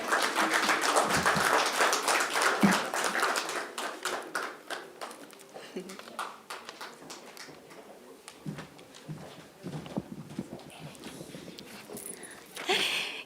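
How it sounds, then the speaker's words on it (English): A crowd at an NBC 35th anniversary broadcasting celebration bursts into dense applause that thins over several seconds into scattered claps, with voices faintly underneath. "A round of applause for them, please."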